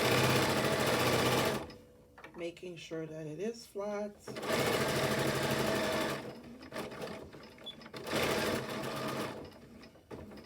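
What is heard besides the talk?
sewing machine stitching elastic onto a mask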